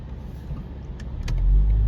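A BMW M440i pulls away on a city street at night, a low engine rumble swelling louder as the car accelerates over a couple of seconds.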